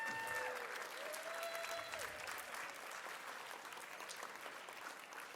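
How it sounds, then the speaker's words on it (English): Steady applause for the honorees at a 50th anniversary gala in Washington D.C., dense and fairly distant, with a few faint whistles or cheers early on. "let's give another round of applause to our honorees"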